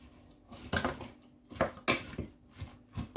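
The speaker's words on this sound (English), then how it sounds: "I'll put the potato in the saucepan with the carrot" Potato and carrot mixed together in a saucepan: a series of quiet, irregular scraping knocks and clinks of a utensil against the pan, with short pauses between strokes.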